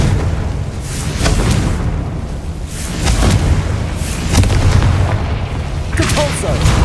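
Repeated Confringo spell explosions from the Hogwarts Legacy video game: a series of booming blasts bursting every second or so over a steady rumbling background, loud and close.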